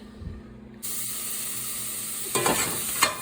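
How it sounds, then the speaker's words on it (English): Onions frying in a pan on a gas stove, quiet at first, then a sudden steady sizzle that swells louder with bursts of crackle near the end. "Now I'm going to caramelize these onions."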